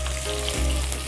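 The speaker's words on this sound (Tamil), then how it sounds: "கடுகு பொரிந்து விட்டது. இப்போ வெங்காயம் போடணும்." Onions hit hot oil after mustard seeds have popped, a dense close sizzle and crackle of frying that holds steady for about a second.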